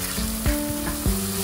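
A soya chunk curry with chopped tomatoes sizzles in a pan as a spoon stirs it, steady frying hiss broken by two or three scraping strokes, close up.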